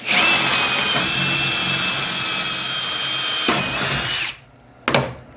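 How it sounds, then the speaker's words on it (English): A power drill runs close and loud for about four seconds with a steady high whine, stops, then gives a short final burst. "Now this one we can drill straight up and down."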